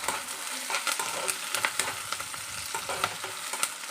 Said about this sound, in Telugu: ఇందులోనే కరివేపాకు కూడా వేసుకుందాం. కొంచెం కలుపుకుందాం.